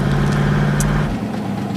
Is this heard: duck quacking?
no